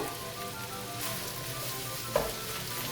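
Rice for fried rice sizzles in a hot pan, a steady crackling hiss with a brief scrape or clink of stirring partway through, heard alone without speech.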